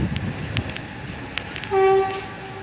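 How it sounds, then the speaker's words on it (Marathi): A train goes by near a rooftop terrace on a hot day, with a low rolling rumble and then a loud, steady horn blast lasting about half a second near the end. "सीधा मेरे को ट्रेन जा रही है"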